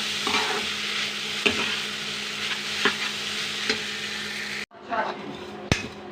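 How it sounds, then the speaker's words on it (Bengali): Vermicelli noodles being stirred and fried in a pan give off a steady close sizzle with scraping stir strokes and a few sharper clinks. The sound cuts off briefly near the end, then returns with another clink. "এখন এই পর্যায়ে আমি সব নুডলসগুলো দিয়ে দিলাম, দিয়ে 2-3 মিনিট নাড়াচাড়া করব।"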